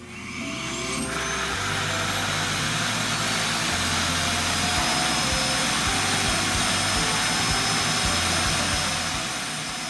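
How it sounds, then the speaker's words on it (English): An iRobot Roomba i3+ clean base emptying the robot vacuum's bin, a loud, sustained whooshing roar with a deep pulsing drone underneath, running continuously for about ten seconds at close range without talk. "And it does make a loud sound when it's emptying its bin."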